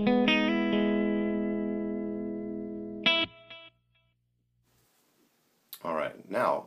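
A few strummed electric guitar chords ring out warm and slightly driven through a small Fender Blues Junior tube amp, sustaining and fading, then a short burst of talking.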